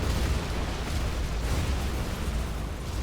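In a video game, a Scud missile strikes and explodes near oil, giving a dense, loud, continuous rumbling roar that holds steady throughout with no clear start or end.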